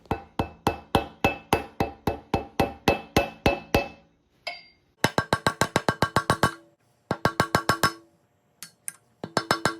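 Repeated metal hammer strikes drive bearing races into a Toyota solid front axle, coming in steady rapid bursts of sharp ringing clanks, loud and close, with brief pauses between series.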